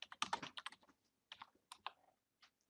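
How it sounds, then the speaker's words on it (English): Fingers tap a computer keyboard in a quick close flurry of clicks, then a few scattered keystrokes after a short pause, quiet with no speech. "I would probably do a find and just type in main dish"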